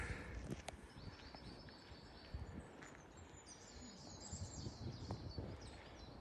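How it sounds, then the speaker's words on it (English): Faint bird chirps and calls come through a noisy outdoor background, scattered and distant. "Let's figure out what kind of bird that is."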